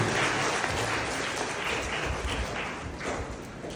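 Audience applause at an award and felicitation ceremony, a steady dense wash of clapping hands that holds for the whole stretch with no voices over it.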